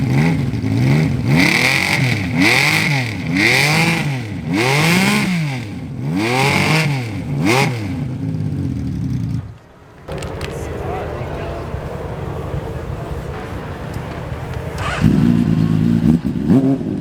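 Several loud revs from a six-cylinder Honda CBX exhaust rise and fall in a steady pattern at a vintage motorcycle festival. After a short break an engine idles more quietly, then rumbles louder again near the end, with people talking over it.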